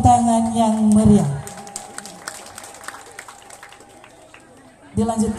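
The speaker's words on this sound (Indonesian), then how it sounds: "Mari kita beri tepuk tangan yang meriah" Audience applause at a village inauguration ceremony for Baokremot, Talibura, Sikka rises after a speaking voice as a few seconds of scattered, moderately faint clapping, before the voice returns.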